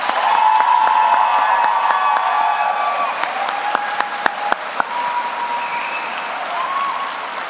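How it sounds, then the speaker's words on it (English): Audience applause fills a nursing pinning ceremony hall, a dense, steady clapping from a large crowd that holds for several seconds before gradually thinning and tapering off, with a few sharper individual claps standing out near the end. "join me in a round of applause for the wonderful faculty and staff of the College of"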